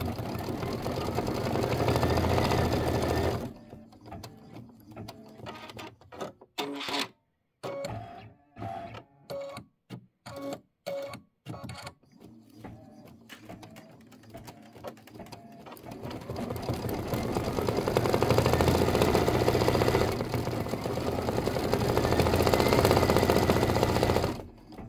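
Embroidery machine stitching the final outline on a leather keychain, a loud steady rapid whir that breaks into short stop-start bursts midway, then runs continuously again.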